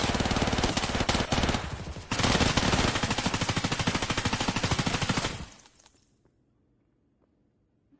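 Sustained rapid automatic gunfire in the shooter game Escape from Tarkov rattles loudly for about five seconds with a brief break, then cuts off into near silence with a few faint distant pops.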